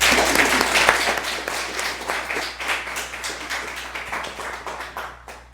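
An audience gives a round of applause at a fellowship presentation, with dense, steady clapping that holds through the whole stretch and tapers off at the very end.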